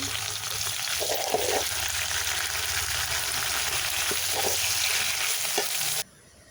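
Leafy greens pick up from garden plants hit a pan of fried onion and garlic, giving a loud, continuous close sizzle with a few soft stirring knocks, which cuts off abruptly near the end.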